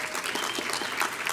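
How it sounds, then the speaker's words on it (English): An audience at a speech night breaks into applause after a student violin performance is introduced, producing a brief, dense burst of clapping from many hands in a hall. "So can we give them a round of applause, too,"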